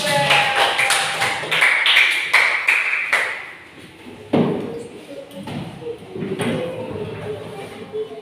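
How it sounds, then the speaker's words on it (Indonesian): Students in a classroom clap for a group, scattered and uneven, loud at first and then fading into sparse individual claps, with a ringing tone and some talking alongside. "Beri tepuk tangan untuk kelompok."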